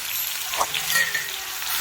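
Garlic sizzling in oil in a home kitchen pan, a continuous close hiss of frying with faint stirring clinks and a brief sharp sound at the end.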